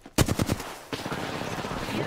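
Gunfire in the Apex Legends video game: a quick burst of four or five close rapid shots, then a second denser volley that blurs into continuous clatter.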